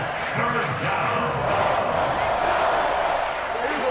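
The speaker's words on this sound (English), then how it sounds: "the crowd getting into it as we come up on a big 3rd down" A stadium crowd roars steadily in the Madden 23 football video game during a third down, a dense sustained cheer that holds at full volume throughout.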